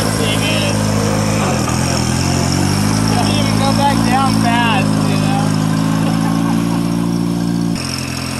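A Satoh S650g tractor engine runs at a loud, steady drone with a strong low hum from start to finish, while people talk over it.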